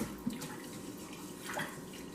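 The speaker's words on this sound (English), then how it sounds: "So put water. You don't have to fill it up. And you just rinse it like that." Water sloshes and trickles softly in a pot as rice is rinsed by hand, close and quiet, with a few small splashes and no speech.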